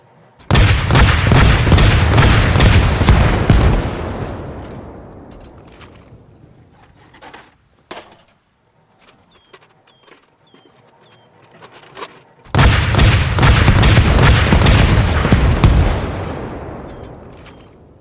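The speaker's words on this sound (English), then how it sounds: "So we finally got the Rocket Hog. Yep, and it actually works, and it does have custom sound effects." Rocket Hog firing rockets, a Halo vehicle mod in the Arma Reforger video game: a loud rapid volley of launches runs for several seconds, fades, then after a quieter gap with scattered bangs a second equally loud volley follows.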